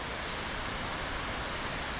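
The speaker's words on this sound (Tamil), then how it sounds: "கீழே தண்ணி போகிற தண்ணி இது பாருங்க" Water pours down from a dam in a constant, dense rushing roar, even and unbroken throughout, with no voices.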